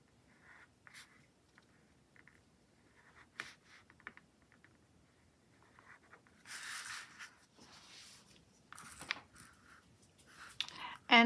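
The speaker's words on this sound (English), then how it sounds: "then do like a longer stretchy script just with a black paper mate flare" Black Paper Mate Flare felt-tip pen writing a long, stretchy script on a planner sheet, heard as soft close scratchy strokes in bursts, louder and denser in the second half, with a few faint whispery sounds.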